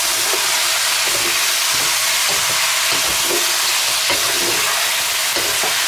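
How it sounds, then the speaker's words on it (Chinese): Spicy hot pot ingredients stir-fried in a wok with soy sauce, cooking wine and sugar, giving a steady loud sizzle broken by repeated scraping and stirring clatters of the spatula, with no voices. "翻炒均匀"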